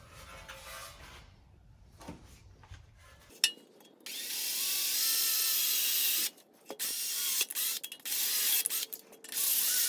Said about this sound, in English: Let's drill the other one.